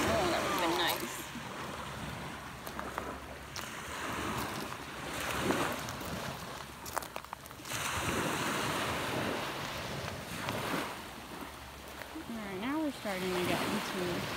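Surf rushes and washes ashore continuously on a Sanibel Island beach, with wind buffeting the microphone and a person talking intermittently over the water.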